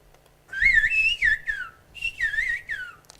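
Greek phrase rendered as whistled speech, two clear, loud melodic whistle phrases with gliding pitch contours separated by a short pause, heard alone with no talking.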